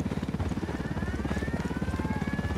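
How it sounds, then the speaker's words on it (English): A helicopter in the video game Ghost Recon Wildlands chops steadily with a fast rhythmic rotor pulse and a rising engine whine, loud and close throughout. "Down! Get down! Chopper!"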